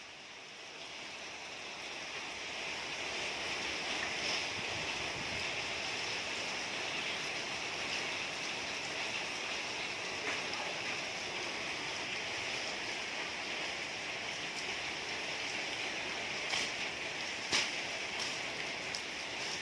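Steady rain falling outdoors at an elephant keeper's place, a continuous even hiss with occasional louder drops, moderately distant and unbroken throughout.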